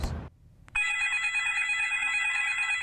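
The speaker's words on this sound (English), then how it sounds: "Your cell phone." A cell phone rings loud and close with a steady electronic trill that sustains unbroken after a brief quiet gap and a click.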